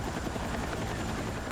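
Helicopters in the video game Battlefield 6, a steady, dense rotor and engine drone with a fast chop, heard close and continuous with no talking.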